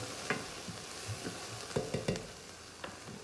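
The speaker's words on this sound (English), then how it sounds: "Peppers and onions always smell really good when they cook together." Peppers and onions sizzle in a hot pan for nachos, a steady close frying hiss broken by a few sharp pops and stirring scrapes, with no voices.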